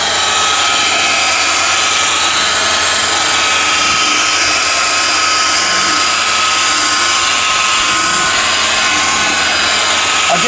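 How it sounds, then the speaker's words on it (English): A car polishing buffer runs continuously at about 1400 RPM, a loud, close, high whirring whine that holds steady throughout without a break. "we'll just take my buffer, and I usually run my buffer about 1400 RPM"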